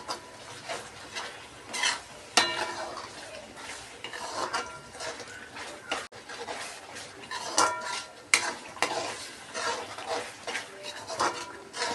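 Vegetables with fresh mint sautéing for a veg dum biryani gravy, with a spoon repeatedly scraping and clattering against the pan in an uneven rhythm, close and fairly loud, over a faint sizzle.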